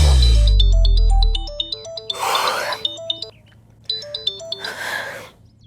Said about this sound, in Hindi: अर्जुन का फोन है, क्या करूं यार